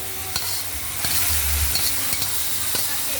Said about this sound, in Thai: ผัดเผ็ดกบกระทะร้อน นี่ลูกค้าสั่งรสจัดจัด